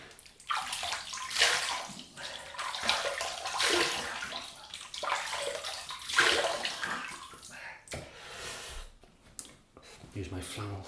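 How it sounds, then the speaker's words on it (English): Water splashing and sloshing at a sink as a face is wetted before a shave, close and uneven in bursts, with a brief pause near the end. "So here we go, just wet the face."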